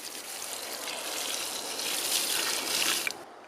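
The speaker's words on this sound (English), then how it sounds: "It also likes a lot of water, so I'm gonna give it a good dose." A steady stream of water splashes and hisses onto a San Pedro cactus's soil or leaves for about three seconds, fairly close, then cuts off abruptly.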